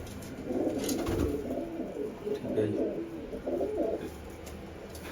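Pigeons coo in repeated soft pulses close by, with someone briefly speaking over the birds.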